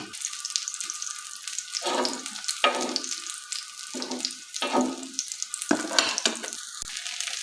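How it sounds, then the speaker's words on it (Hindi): Beef resha kebabs sizzle in hot oil with a steady, close crackle, broken by several louder bursts of turning and scraping in the pan. "ये देखिए हमारे कबाब फ्राई हो चुके हैं"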